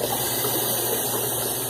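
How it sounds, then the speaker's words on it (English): Warm water runs steadily into a salsa bowl, a loud, close, continuous gushing stream from a tap with no pauses and no talking. "I'm just getting some warm water in my salsa bowl"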